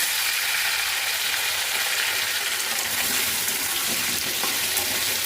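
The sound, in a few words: potatoes frying in a kadai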